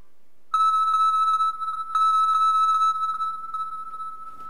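A Moto X 2nd Gen smartphone rings after a find-my-phone voice command, giving a loud, pure beeping tone pulsed in a steady repeating rhythm, close and alone.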